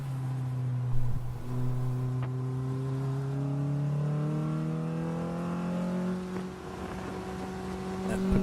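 A Mazda Miata race car in a ChampCar endurance race at NCM Motorsports Park revs steadily at close range, its engine note rising through the gears with a brief dip and climbing again.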